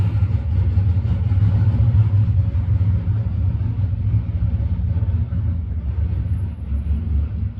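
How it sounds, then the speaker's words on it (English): A big truck engine rumbles steadily along the street, a deep continuous low drone that stays fairly loud and close with no pauses and no voices. "I'm envisioning it's a big truck"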